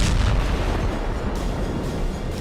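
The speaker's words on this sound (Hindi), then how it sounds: "दूसरा धमाका, फिर तीसरा, चौथा और पांचवा। हर धमाके के साथ धधकता हुआ आग का गोला" Bomb explosions from a deadly Russian bomb in Ukraine, a dense continuous roar of blasts and rumbling fire, loud and sustained throughout with no clear gaps between bursts.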